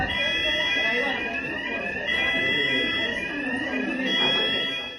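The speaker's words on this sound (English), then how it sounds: "The good old fire alarm" A hospital fire alarm rings steadily throughout, a loud continuous electronic tone over a busy background of voices and commotion.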